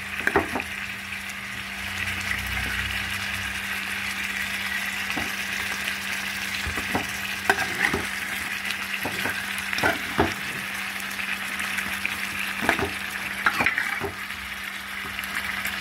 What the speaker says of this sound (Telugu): ముక్కలన్నీ ఇలాగా ఫ్రై చేసేసుకుంటాం అన్నమాట